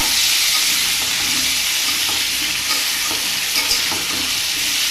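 Vegetables for bhuna khichuri frying and being stirred in hot oil with spices, a steady loud sizzle with scraping stir strokes throughout, no talking.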